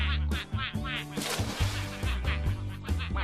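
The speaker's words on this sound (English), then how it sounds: "it's good to see the ducks back on their pond again" Ducks on a farm pond, a quick run of honking, quacking calls, loud and close, repeated in short bursts against a busy background.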